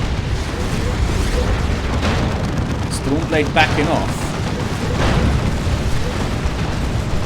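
Manticore Strike explosions from the Imperial Guard hitting Chaos Space Marines in Dawn of War 2: dense, continuous rumbling blasts and battle noise under a steady game voice line and commentary.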